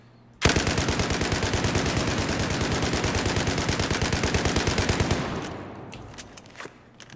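U-100 MK5 light machine gun in Battlefield 4 firing one long sustained automatic burst, rapid even shots, loud and close, then stopping abruptly with a few faint mechanical clicks and echoing tail.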